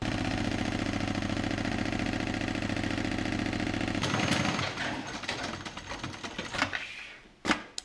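An industrial sewing machine stitches a white leather bag, a fast, even mechanical chatter running loud for several seconds before it stops, followed by a few scattered clicks and knocks of handling.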